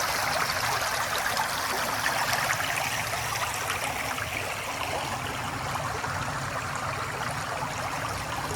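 A creek flows steadily through trail-less backcountry, a continuous rushing, trickling wash of water that holds fairly loud and even throughout.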